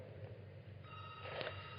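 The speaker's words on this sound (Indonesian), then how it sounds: "Ini ada telepon yang masuk, saya terima dulu." A telephone rings with an incoming call, its electronic tone coming in after a low hum and growing louder toward the end, with no talk over it.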